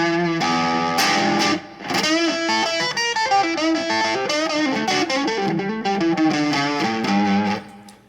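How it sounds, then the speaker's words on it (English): Fender Strat electric guitar played through a Peavey Vypyr VIP 1 amp with distortion and effects, a continuous loud riff of chords and notes with no talking. "right now I'm playing on a Fender Strat"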